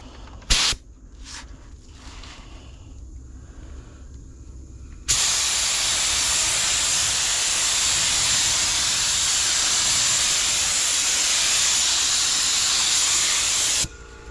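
A spray gun shoots a thin tack coat of paint over an epoxy-repaired speaker hole. A steady, close, loud hiss runs for about nine seconds after a quieter start with a couple of brief clicks.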